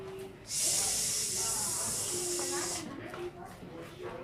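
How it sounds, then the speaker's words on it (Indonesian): A snake hisses in a long, loud, steady rush lasting about two seconds as a sound effect in a spoken story, with a voice talking softly before and after. "Jangan-jangan itu suara ular."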